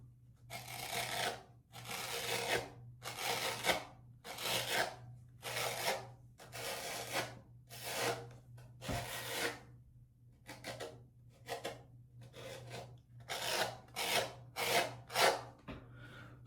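A hand rubs back and forth over short stubble regrowing a day after shaving, giving close, dry rasping strokes in an irregular rhythm against a steady low hum, with no talking.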